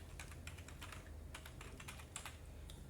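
Steady, faint clicking as someone types on a computer keyboard, a quick run of keystrokes with no voices.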